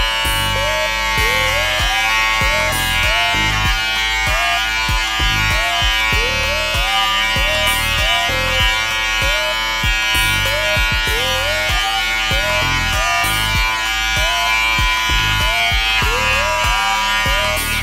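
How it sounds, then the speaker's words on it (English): Electric hair trimmer buzzing steadily at close range while cleaning up sideburns during a home haircut, a constant high hum with rhythmic dips as the blades move through hair, no talking over it. "clean up your sideburns and where you want it with the trimmer"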